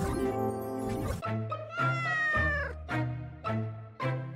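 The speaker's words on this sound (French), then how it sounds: "Ça va, chaton? Pourquoi tu pleures?" A kitten meows and cries in a string of about six plaintive, wavering calls, close and clear, with no talk over it.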